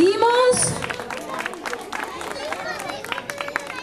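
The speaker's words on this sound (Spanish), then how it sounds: "un aplauso muy fuerte para nuestra novia" Crowd clapping and cheering for a bride at a Bahia carnival in 2012, a busy hubbub of hands and voices with people talking loudly over it.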